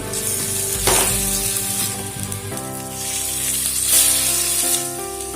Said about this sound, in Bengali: যেহেতু আদা দেওয়া আছে এটাকে আগে একটু ভালো করে কষিয়ে নিচ্ছি